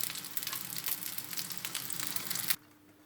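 Curd pancakes (syrniki) frying in a pan, a steady dense crackling sizzle that runs close and fairly loud, then cuts off sharply near the end, leaving quiet.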